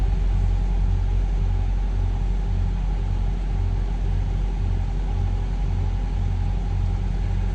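An old truck's engine idles with a steady, loud low rumble and a slight mechanical throb that stays constant, close by and uninterrupted, with no voices.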